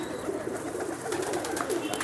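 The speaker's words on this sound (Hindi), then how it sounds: "ये मेरे चैंपियन है कबूतर लाखे।" Champion racing pigeons cooing softly amid a steady low murmur of other birds in an old Jammu city loft, continuous and moderately close with no talk over it.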